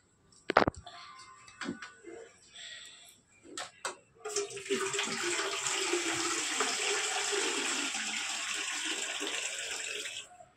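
A few light clatters come first, then water from a tap pours steadily and fairly loudly into a cooking pot, a continuous rushing stream that lasts to the end.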